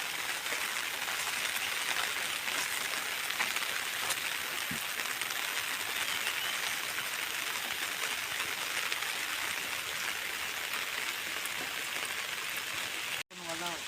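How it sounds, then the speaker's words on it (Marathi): A downpour falls over a water-filled creek, a thick, steady rushing hiss that stays loud throughout before a sudden brief cut near the end; a voice may be faintly present underneath. "पाणी पण भरपूर भरलेलं आणि पाऊस पण"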